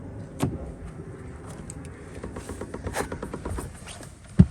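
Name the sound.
Mercedes car being unlocked with key fob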